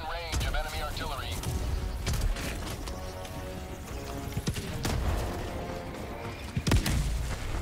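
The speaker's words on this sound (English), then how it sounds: "Warning, you are in range of enemy artillery." Enemy artillery in the Helldivers 2 video game pounds away as repeated booms and crackling bursts through a busy battle mix, with voices talking over the fire.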